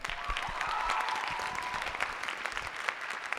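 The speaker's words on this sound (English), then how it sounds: "So give a round of applause for them." Steady applause from a theatre audience before a company stage adaptation, a dense even patter of clapping lasting a few seconds at moderate level.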